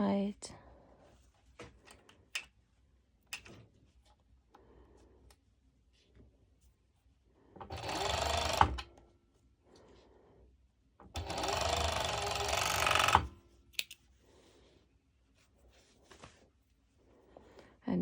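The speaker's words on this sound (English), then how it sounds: "be sure that you are sewing over 4 layers of fabric" Sewing machine stitching a mesh sports top through four layers of fabric, running in two loud bursts of steady whirring separated by quiet handling noises, with a few soft spoken words in between.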